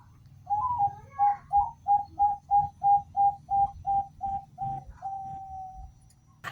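Zebra dove (perkutut) from a breeding aviary cooing a steady run of about a dozen evenly spaced, clear notes ending in a longer drawn-out coo, with a low background rumble beneath.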